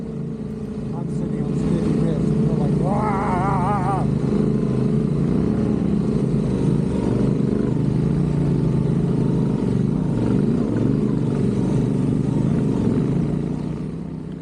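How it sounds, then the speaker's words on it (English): A Yamaha Tenere motorcycle runs flat out in sixth gear across a dry lake bed at Lake Iriki in Morocco, with continuous loud engine drone and heavy wind rush throughout and no letup. "Yamaha Tenere 6th gear across an incredible lake"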